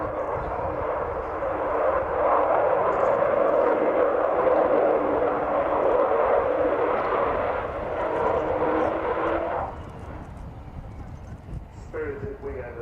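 An Avro Vulcan B2 bomber flies past at the Royal International Air Tattoo, a loud broad jet roar that holds strong for about ten seconds and then drops away, with a commentator talking over the public address throughout.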